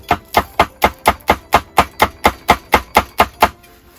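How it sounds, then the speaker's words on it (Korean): Cheongyang chili peppers are minced with a knife on a cutting board, fourteen loud, crisp, evenly spaced chops in quick rhythm before the knife stops. "이렇게 다져 주시는 거예요"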